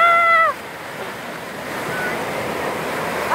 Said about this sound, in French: Les vagues sont de plus en plus grosses.